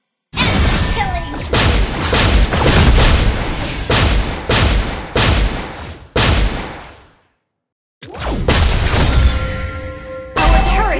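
Repeated booming impacts and gunfire in a video game battle around a turret under attack, coming in loud, regular bursts with a brief silent gap before the barrage resumes.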